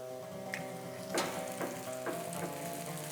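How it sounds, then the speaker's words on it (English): Food fries in a pan for a Chanukah recipe, a steady dense sizzle with soft crackles and small pops spread through, close and fairly quiet, no voices. "we will let them fry for about 2 or 3 minutes on a side until we try to turn them"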